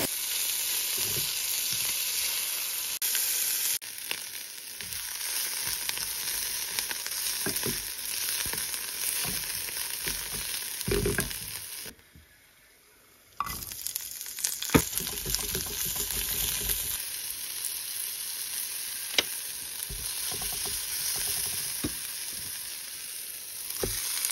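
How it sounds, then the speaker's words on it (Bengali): Finely chopped garlic fries in oil in a wok, giving a steady close hiss of sizzling with scraping stir sounds, briefly dropping away near the middle before resuming at full strength. "এবারে কড়াইতে একটু তেল দিয়ে এর মধ্যে আমি একটু রসুন কুচি, মানে একদম ফাইনালি চপ যে রসুনটা ওটাই দিয়েছি।"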